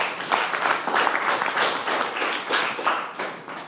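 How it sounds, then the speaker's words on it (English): A small audience at a Toastmasters-style club meeting claps for a speaker heading to the podium, with distinct individual claps forming an uneven, lively rhythm over a few seconds. "Applause to our effective communicator."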